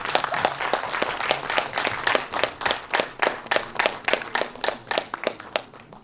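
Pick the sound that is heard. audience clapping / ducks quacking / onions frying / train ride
audience clapping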